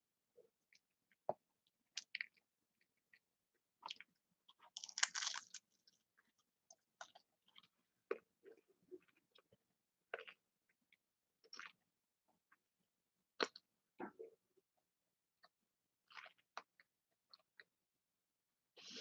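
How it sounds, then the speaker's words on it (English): A person chewing food close to the mic during a live stream, with a run of separate wet bites and mouth clicks spread irregularly over about twenty seconds and quiet gaps between them. "live streaming and all she's doing is chewing"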